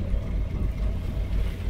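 Low, steady engine drone of a net boat's pulley machine hauling in a sardine net off the Philippines, a continuous rumble mixed with wind and water noise, with no voices.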